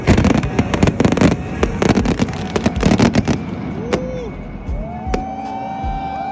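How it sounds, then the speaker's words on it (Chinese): A big fireworks show at a local event in Germany: loud, dense crackling bursts in quick succession, then thinning to scattered whistles and single pops. "然后还有很棒的烟火秀"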